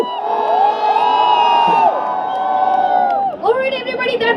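A large concert crowd at a university star night in Lucknow cheers, whoops and shouts in a loud, sustained roar, with a brief dip before the noise swells again.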